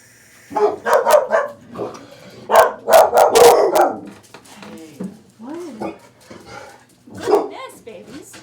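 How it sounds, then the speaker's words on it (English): A dog barks in bursts of several loud barks, then fades to softer yips and whines, with people talking over parts of it. "I bet you that means my boy started barking."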